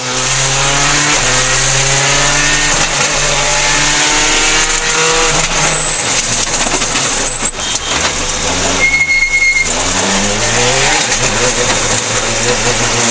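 A Skoda rally car driven by Gilles Panizzi, struggling with its handling on a Monte Carlo rally stage, roars loudly and steadily with rising and falling engine revs that stay up close throughout.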